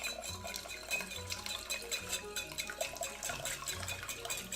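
Melted butter is whisked into cocktail syrup, giving a fast, steady, liquid clatter of a whisk against a bowl close by that runs continuously without speech.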